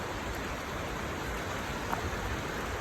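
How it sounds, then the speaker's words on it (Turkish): Rain falls on a street in Riga, Latvia, a steady soft hiss of drops that is faint and even, with no voices. "Buraya baktığı zaman da yağmur var."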